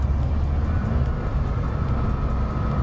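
A 1991 Chevrolet Corvette ZR1 with the LT5 engine gives off a steady, heavy drone as it accelerates gently at about 30 mph in third gear, a continuous low rumble with no break.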